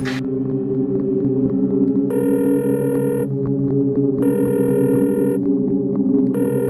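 A phone call rings out over speakerphone: repeated electronic ringing tones come in regular bursts over a loud, constant low hum, with the pattern repeating twice and starting again at the end.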